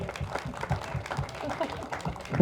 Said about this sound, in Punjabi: ਸਾਰਿਆਂ ਲਈ ਜ਼ੋਰਦਾਰ ਤਾੜੀਆਂ ਮਾਰ ਦਿਓ ਖਿੱਚ ਕੇ ਮਾਰ ਦਿਓ